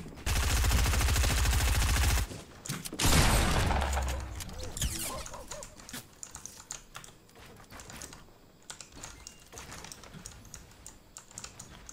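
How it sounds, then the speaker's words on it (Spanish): Rapid gunfire in the video game Fortnite, a loud dense burst of shots for a couple of seconds followed by another short volley, then scattered clicks and keyboard taps under quieter game noise. "Han disparado por aquí debajo."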